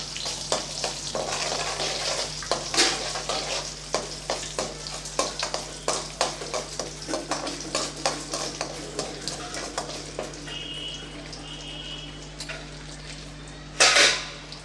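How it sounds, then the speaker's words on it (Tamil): Ten garlic cloves cut lengthwise sauté in hot oil for mango pachadi, the soft frying sizzle paired with a regular rhythm of spoon scrapes against the pan, ending in a louder metallic clatter. "இப்போ அதை சேர்த்துக்கலாம் நல்லா வதக்கி விட்டுறலாம்"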